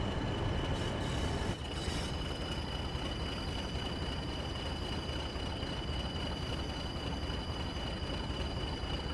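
A Class 40 diesel locomotive in the Train Sim World game rumbles steadily as it pulls out of the sidings, a continuous close engine drone with rail noise and a brief clank early on.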